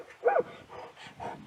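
A human voice imitates an excited dog's huffs, giving one sharp breathy huff followed by softer, shorter ones, close and fairly quiet.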